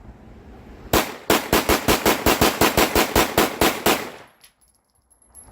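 A Springfield SA-35 Hi-Power pistol fires a rapid string of about thirteen loud, evenly spaced shots outdoors, then falls silent as the last report fades.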